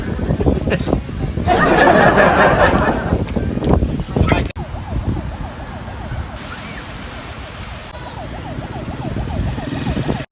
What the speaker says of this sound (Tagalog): So yun nga guys, may sirena.